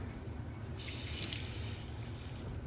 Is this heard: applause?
no